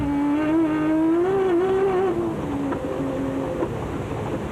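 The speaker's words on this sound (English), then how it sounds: "the sweet-sounding V6-powered Team Ford Racing Ranger was a match for the all-conquering Nissans" A V6-powered Ford Ranger rally truck races at the 2003 Sugarbelt 400, its engine note rising and falling through gear changes, loud and close throughout with no other sound.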